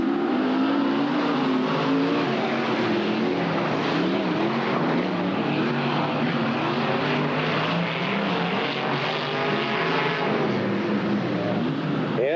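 Sprint cars race around a speedway track, a dense, continuous snarl of several high-revving engines rising and falling as they circle, loud and unbroken throughout.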